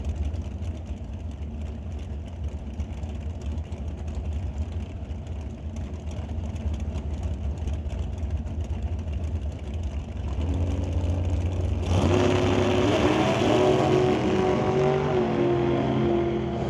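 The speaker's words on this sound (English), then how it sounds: "Pair of dragsters coming on up now." A pair of drag racing dragsters, including a Hot Shot dragster and the Gringo dragster at an NHRA Summit ET Series race, rumble steadily at idle before a sudden loud engine roar swells and holds through the final seconds.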